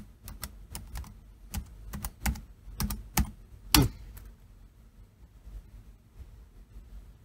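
An admin password is typed on a computer keyboard, with a run of distinct close key presses ending in a heavier final keystroke, over a low background hum before the keys fall quiet.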